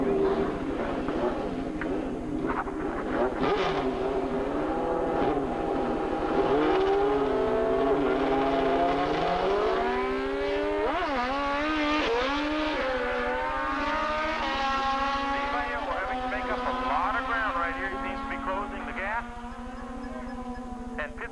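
Drag racing motorcycles, one a Kawasaki, make a pass at a dragstrip, engines revving and climbing through gears in rising whines, loud and sustained with crowd and announcer talk running underneath.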